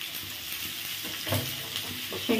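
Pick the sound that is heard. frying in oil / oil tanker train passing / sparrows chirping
frying in oil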